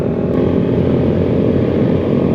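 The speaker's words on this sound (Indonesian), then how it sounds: "gue demen dengar suara motor macam 2 silinder ke atas kan" A two-cylinder motorcycle engine drones steadily and loudly up close, a dense low rumble holding an even pitch throughout.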